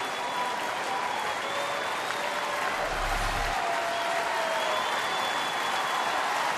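Baseball stadium crowd at a Kansas City at Detroit game applauding and cheering steadily, a dense, loud wash of clapping and crowd noise with a broadcast commentator's voice faintly underneath.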